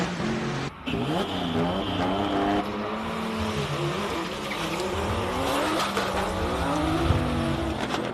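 A race car at a hill climb qualifying event climbs the course, its engine revving loudly up and down through gear changes with rising and falling pitch, near and continuous, with faint crowd ambience.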